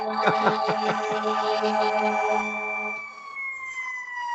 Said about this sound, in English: the ambulance in the background